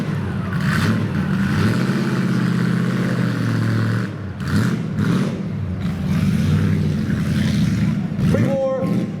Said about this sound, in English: Listen to that 8-cylinder engine.